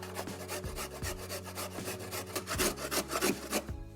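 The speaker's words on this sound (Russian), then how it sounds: "Морковь натираю на крупной терке." Steady rasping scrape of a carrot rubbed back and forth on a coarse grater, close and continuous with a rhythmic push-pull pattern.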